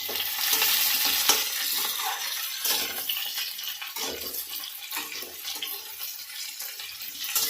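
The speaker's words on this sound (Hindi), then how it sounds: "यहाँ पर मैं गोभी को तेल में ना फ्राई कर रही हूँ ताकि ये अच्छे से गोल्डन हो जाए" Cauliflower fries in hot oil in a home kitchen, giving a dense, steady sizzle with bright crackling and occasional stirring clatter, close and continuous with no talking.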